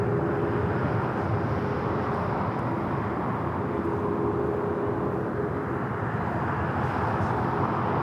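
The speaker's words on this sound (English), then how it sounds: "the final Southern DHL co-branded delivery on this 777 freighter is going to be taking off momentarily to Cincinnati" A DHL-branded Boeing 777 freighter takes off at Los Angeles International Airport, a steady, broad, distant jet roar holding at an even level throughout.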